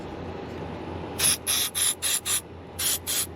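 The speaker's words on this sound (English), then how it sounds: "we're going to spray it down" A series of short, sharp spray bursts, about seven quick hissing pumps in two groups, close by over a low background hum, spraying cleaner on an Evinrude 30 hp outboard carburetor.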